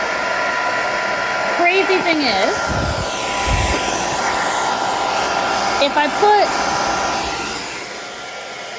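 A hair dryer blows steadily and loudly on Frixion pen ink, a constant whooshing roar that runs throughout, with a person speaking briefly over it.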